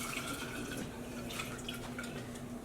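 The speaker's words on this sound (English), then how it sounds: "I am now going to go rinse out the bottle with the warm water that I pulled from the dye bath" A bottle being rinsed out with warm water taken from a yarn dye bath, heard as a steady, soft splashing and trickling wash of water from start to finish.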